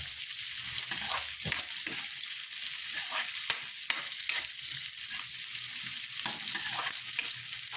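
Ginger sizzles and crackles in a pan for chicken tinola, a loud, continuous close frying hiss broken by scraping stirring strokes.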